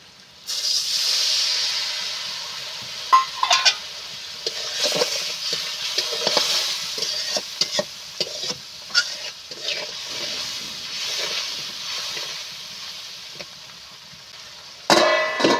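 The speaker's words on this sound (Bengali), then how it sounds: "মশলাটা কষানোর জন্য আমি একটু জল দিয়ে দেবো" Spiced masala for ghugni hisses and sizzles in a hot pan after a splash of water goes in, a loud steady steamy hiss with scattered crackles that fades, then flares up again briefly at the end.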